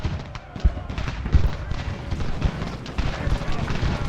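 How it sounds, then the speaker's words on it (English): Cannon fire during an American Revolution battle in Ultimate General: Revolution, scattered deep booming thumps mixed with crackling gunfire over a rumbling battle bed, with someone talking over it. "these cannons, they should be doing devastating fire into the flank of these"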